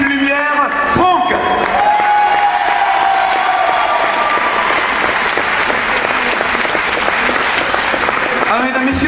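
Sustained crowd applause with some cheering at the 2009 Jeune Garde centenary in Eloyes, greeting a sound technician; a voice talks briefly near the start and again at the end over the steady clapping.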